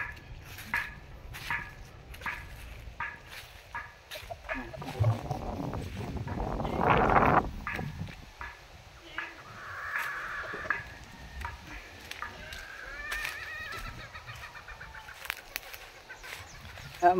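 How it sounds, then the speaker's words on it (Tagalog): Outdoor farmyard sounds with chickens clucking faintly amid other animal calls, including goats, and a brief louder squawk, fairly distant and without talk. "Yan po yung mga manok."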